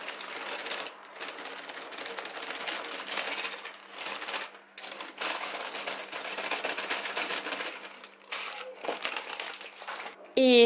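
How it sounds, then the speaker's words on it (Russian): Baking paper is peeled off a rolled sponge cake, giving a continuous close crinkling and rustling with short pauses and a few sharper crackles. A voice talks quietly at times beneath it. "Переворачиваем его вместе с бумагой вот таким вот образом и снимаем аккуратно."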